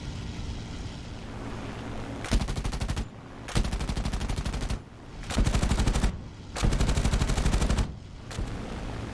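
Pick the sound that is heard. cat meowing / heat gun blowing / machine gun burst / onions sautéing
machine gun burst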